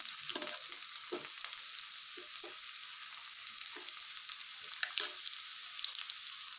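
Ginger frying in oil for a masala curd tempering, giving a continuous, hissing sizzle with soft, scattered pops and light stirring underneath.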